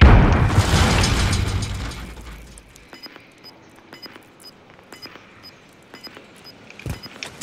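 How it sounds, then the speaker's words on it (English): A stun grenade detonates in Call of Duty: Warzone with one loud, close bang that decays over about two seconds into faint mechanical clicks and soft metallic ticks. "Stun grenade out!"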